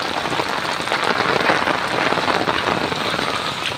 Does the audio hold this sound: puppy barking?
no